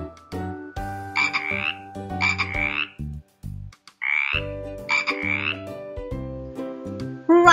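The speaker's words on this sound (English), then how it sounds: "Right, it's a frog." A frog croaks in several loud, close bursts, grouped in pairs with short gaps, over a steady tonal backdrop with no talking.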